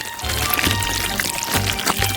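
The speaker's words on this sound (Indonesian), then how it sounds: "Kemudian kita tuangkan ke dalam botol" Thick liquid pours steadily into a container, a soft continuous gurgle close by with a few faint low thumps beneath.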